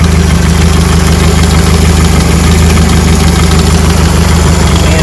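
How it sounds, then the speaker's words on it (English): Car engine idling while it warms up, a loud, steady low rumble with even, continuous vibration and no change in pitch, heard close up with no talk. "I'm going to continue letting the engine warm up"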